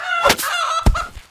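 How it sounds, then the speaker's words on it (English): Two quick squawking clucks from animated chickens in a Fortnite cartoon, close and loud, with no speech. "I see some chickens over there."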